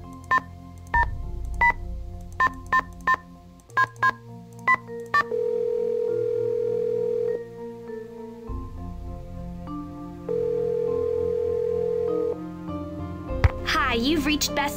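Telephone keypad dialing in a Nancy Drew video game: a quick series of crisp touch-tone beeps, followed by long steady ringing tones with quiet gaps, close and clear, with no talk over them.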